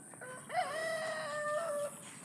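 A rooster crows once, a clear drawn-out call rising then holding steady, with faint chicken clucks around it in an open provincial yard; no one speaks.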